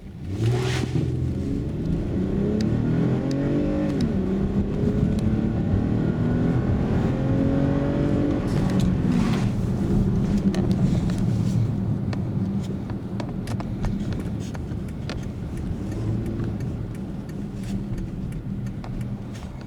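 A 2013 Toyota Highlander 3.5 V6 running on LPG via a Landi Renzo gas system accelerates from inside the cabin, its engine revving and rising in pitch through gear changes, a steady loud drone that eases slightly later on.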